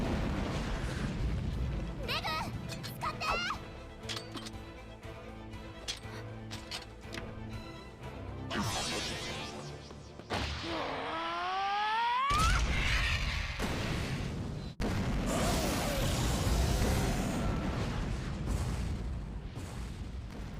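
Continuous explosions in the Made in Abyss anime, episode 9: rumbling booms and crashing blasts run over a music-heavy soundtrack with people talking throughout.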